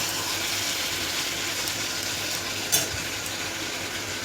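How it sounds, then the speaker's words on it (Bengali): Meat frying with spices in a pan, a soft steady sizzle running throughout, with one brief clink partway through. "মাংস নিয়ে আসলো, এটা এখন করছি, মশলা দিয়ে যে কষাচ্ছি।"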